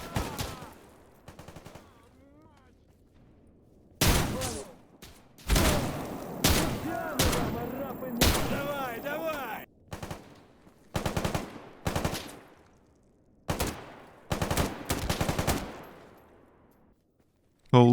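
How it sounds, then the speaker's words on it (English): Bursts of automatic gunfire from bandits shooting at mercenaries in S.T.A.L.K.E.R. GAMMA, loud repeated volleys in clusters with quiet gaps between, some echoing off the surroundings, with a voice talking in the quieter stretches. "Huh, I guess these bandits were shooting at some mercs maybe?"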